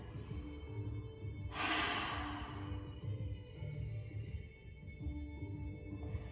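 One long, breathy exhale during a core and balance yoga session, lasting under a second, close and soft against a quiet room with faint background murmur.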